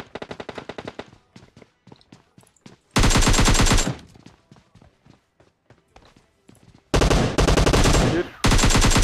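Automatic and single gunfire in the PUBG Mobile battle royale game, with two long, loud sustained bursts of machine-gun fire broken up by quieter scattered shots and rapid footsteps.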